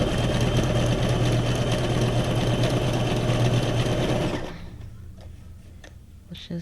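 Sewing machine zigzag stitching along the edge of a cardstock tag, a steady loud mechanical whir for about four seconds that then stops abruptly, leaving a quiet room.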